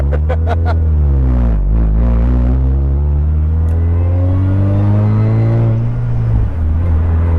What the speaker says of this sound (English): I have an air leak somewhere. Massive air leak. Massive. What's funny, it gets louder as you go faster.